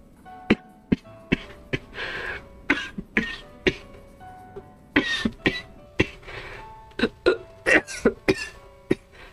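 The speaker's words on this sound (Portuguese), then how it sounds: "deu uma tosse doida aqui" A harsh coughing fit: many sharp, close coughs and throat-clearing bursts in irregular clusters, some in quick pairs, over a quiet background hum.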